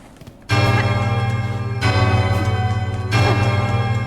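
A large bell in a citadel sanctuary in the video game Silksong rings loudly three times at steady intervals, each strike sustaining a rich, humming tone that blends into the next.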